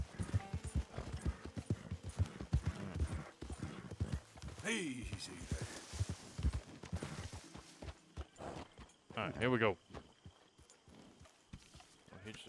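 Horse hooves clip-clop on the ground in Red Dead Redemption 2, a steady walking rhythm close by, with a short whinny partway through; someone talks calmly over the hoofbeats.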